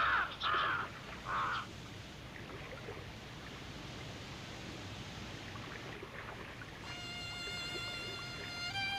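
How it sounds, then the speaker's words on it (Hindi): A crow gives several loud, harsh caws close by in quick succession at the start, followed by steady low ambient noise and a faint tonal musical bed toward the end. "फिर बहुत दिन गए और नोहा ने एक काक छोड़ा।"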